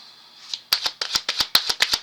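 Deck of playing cards being shuffled up close, a quick run of crisp riffling snaps and slaps in uneven rhythm, loud and alone with no talking.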